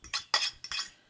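Eggs being mixed into gluten-free flours for cornbread in a bowl, heard as a few quick clinks and scrapes of a utensil against the bowl in short separate bursts, close and fairly quiet.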